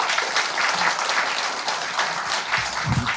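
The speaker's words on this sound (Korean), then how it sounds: "박수로 서로 한번 격려합시다." Audience applause fills a seminar hall at an academic meeting, a broad, continuous roar of many hands clapping together that stays loud throughout, with a few low murmurs or shuffles near the end.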